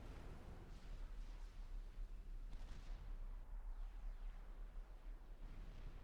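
Distant cannon artillery booms in the Supreme Commander 2 video game, faint low thuds and rumbling impacts repeating irregularly over a steady deep battle drone, with no talking.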